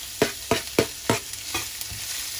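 Onion is added to browned garlic in a pan for carbonara. A bright sizzle runs under a regular series of scraping stirs, about one every third of a second, close and fairly loud, with no talking.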